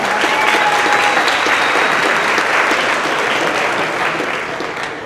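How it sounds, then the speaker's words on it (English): Steady, loud applause from an audience at a company celebration, dense and continuous for about five seconds before tapering slightly at the end, with a few faint voices mixed in. "let's applaud for him."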